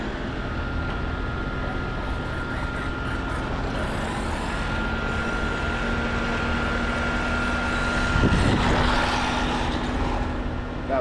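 An upgraded Arrma Mojave Grom RC truck drives outdoors, its electric motor whining in a steady, loud drone with a brief surge near the end.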